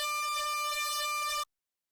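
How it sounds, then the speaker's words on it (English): A Boss Metal Zone distortion pedal plugged into itself in a no-input feedback loop, routed through further pedals, produces a harsh, buzzy, horn-like screeching drone that holds steady and then cuts off abruptly. "One was a Boss Metal Zone using a feedback loop where we plug the metal zone into itself and then out into other pedals."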